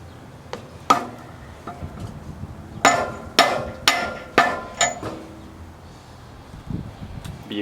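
A handful of sharp metallic knocks as a part is hammered in using a 1 7/16 socket on a Mazda RX3 rear end, several struck in quick succession near the middle, loud and close with quiet pauses between.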